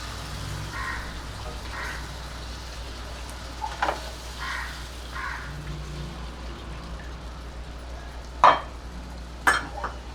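A pasta sauce is stirred in a pan while cold milk from the fridge is added little by little. There is a soft, steady background with faint scraping strokes and two sharper clinks near the end, and no talk.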